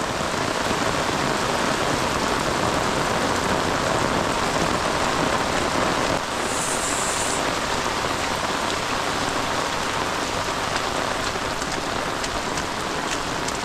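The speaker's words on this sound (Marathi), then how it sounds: "पुढचं काय दिसतच नाही आहे एवढा पाऊस लागतो" Heavy monsoon rain in the Konkan countryside pours down in a dense, constant roar of drops hammering surfaces, loud and unbroken, easing very slightly partway through.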